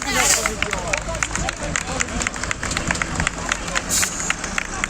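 Villagers in Çınar Yaprakbaşı, Diyarbakır, applaud in protest after their farm transformers were removed, rapid uneven clapping from a close outdoor crowd mixed with shouting and babble throughout.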